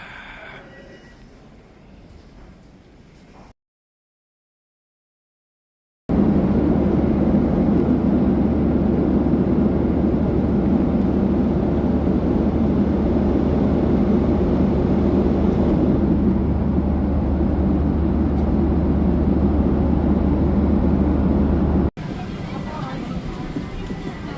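A Jeju Air airliner lands, heard from inside the cabin as a loud, steady roar of engine and rolling noise that holds for about fifteen seconds after a brief silence, with talking in the cabin.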